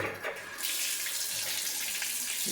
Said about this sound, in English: Water came on.